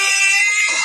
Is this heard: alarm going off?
yes